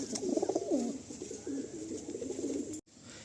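Pigeons cooing in a loft of birds for sale in Garia, Kolkata, with low, soft, repeated coos close by over a quiet background.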